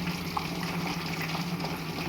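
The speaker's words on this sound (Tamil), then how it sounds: "தண்ணி நல்லா கொதிச்சிடுச்சு." Water at a rolling boil in a pot on high flame while making mutton biryani, a steady close bubbling and churning that holds without pause.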